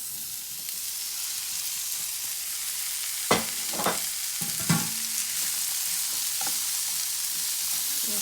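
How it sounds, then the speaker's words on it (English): Sliced peppers go into a pan of onions, garlic and ginger already frying for shakshouka, giving a steady close sizzle broken by a few sharp spoon scrapes and clanks as the mixture is stirred. "So now we can go ahead and add in our peppers."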